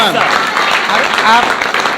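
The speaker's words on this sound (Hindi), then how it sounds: "जोरदार तालियां भी।" Audience applause at a direct selling business talk, dense and continuous clapping at steady loudness, with voices mixed in.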